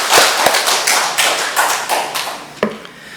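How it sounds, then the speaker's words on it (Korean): A church congregation breaks into a short burst of thankful clapping during a Sunday service, dense and fairly close, with a few sharper individual claps standing out as it tapers. "우리 하나님 앞에 감사 박수 한번 하나님께 드리고"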